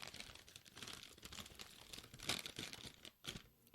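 A crinkly plastic chip wrapper being unwrapped up close, with quiet, irregular crackling and crumpling that comes in short bursts for a few seconds.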